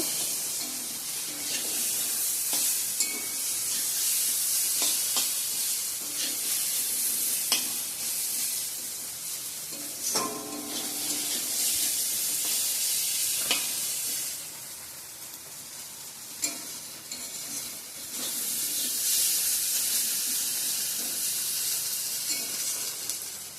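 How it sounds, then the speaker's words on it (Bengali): Potatoes frying in a home kitchen pan give a steady, fairly quiet sizzle throughout, with occasional soft stirring scrapes and brief clinks rising above the hiss. "এদিকে আমার ভটভটি আলু ভাজাটাও হচ্ছে"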